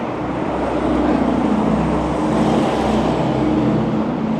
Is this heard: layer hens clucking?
no